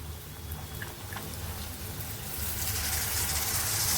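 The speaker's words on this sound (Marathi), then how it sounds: "आता आपण ही चण्याची डाळ टाकूया।" Chana dal pours into a pan of cooking kantola, a soft scattering patter that swells into a brighter sizzle toward the end, close up with no talk.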